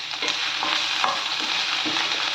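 Finely chopped ginger, garlic and green chilli frying in oil, a continuous loud sizzle with light stirring scrapes throughout and no talking.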